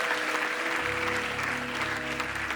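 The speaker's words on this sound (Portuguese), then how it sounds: "dá uma salva de palmas a Jesus" A church congregation at Zion Church Lisboa claps in sustained, steady applause, with low held musical tones sounding underneath throughout.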